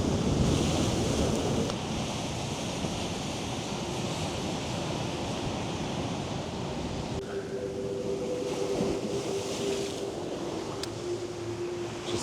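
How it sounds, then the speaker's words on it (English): Ocean surf on a Hawaiian shore rolls and splashes in a steady wash, mixed with wind buffeting the microphone, continuous and fairly close with no talking. "Water splashing though."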